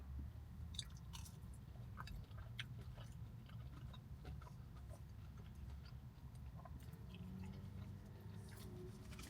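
Chewing on food while sampling a restaurant chain's house-made marinara sauce, with soft, close mouth sounds and small crunchy clicks running steadily over a low background rumble, no talking.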